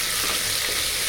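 Onions with ginger garlic paste frying in a cooking pan for biryani kushka rice, a continuous bright sizzle with soft stirring underneath, close and steady, with no voices.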